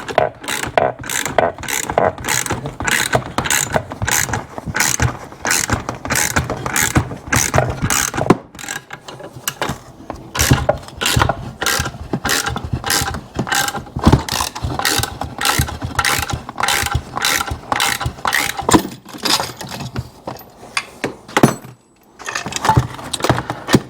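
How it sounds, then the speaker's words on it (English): Bearing being pushed out of a rusted 1972 Yamaha DT2-MX 250 engine during disassembly gives a steady run of close, rapid metallic ratcheting clicks, with a brief pause midway before the clicking resumes. "Pushing the bearing out with it."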